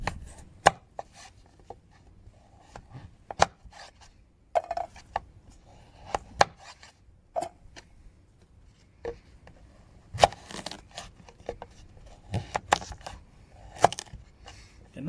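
A firewood-processing knife chops food for sausage and mash on a board outdoors, giving sharp irregular knocks, sometimes single, sometimes in quick clusters, with quiet pauses between.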